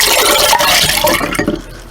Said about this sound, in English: Pour this over, make sure all of the eggs are submerged.